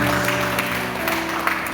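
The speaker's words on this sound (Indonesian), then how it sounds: "Tepuk tangan dong." Steady applause from a crowd at an evening church testimony gathering, a continuous dense wash of clapping holding at even loudness throughout with faint low hum beneath.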